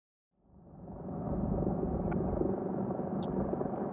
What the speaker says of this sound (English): Well, that's the Coast Guard helicopter.